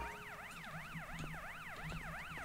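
Ambulance siren in the GTA video game, a loud steady wail sweeping smoothly up and down in repeated cycles, with faint game sounds underneath and no talking.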